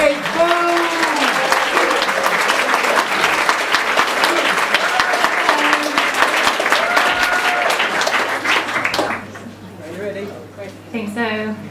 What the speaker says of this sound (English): round of applause please for Andrea Kate.